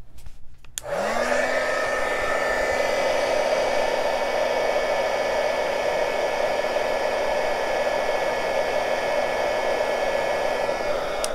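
A heat tool switches on and blows steadily to melt sticky embossing powder on paper, a loud continuous whirring hiss with a constant tone that starts abruptly and runs unbroken to the end.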